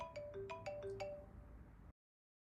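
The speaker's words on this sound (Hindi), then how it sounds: "मोहित ने पा को याद किया, पा की कॉल आ गई" A bright melodic phone ringtone plays a quick run of chiming notes over a low background hum, then cuts off abruptly.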